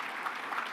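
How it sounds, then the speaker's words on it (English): An audience clapping at a Georgia labor commissioner's address, a steady, even patter of many hands at moderate distance, brief and fairly soft, with no talking over it. "Did somebody clap?"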